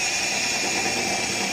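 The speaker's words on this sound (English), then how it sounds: "I'm going to go ahead and drill this out." A power drill bores a 3/8 inch hole through a steel hitch frame plate on a John Deere X350 lawn tractor, giving a steady, close, droning whine that holds unbroken throughout.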